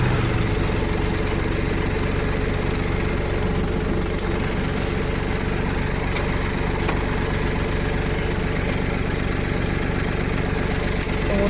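A Kubota Aste A155 mini tractor engine idles steadily up close, a constant low chugging rumble with faint clicks, and no one speaks.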